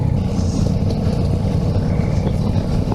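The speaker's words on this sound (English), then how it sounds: "Ducati Multistrada 4S. First time ever riding this bike, and it's gonna go straight into off-road" A Ducati Multistrada 4S motorcycle ridden off-road, its engine a loud, continuous rumble with steady wind noise and no pauses.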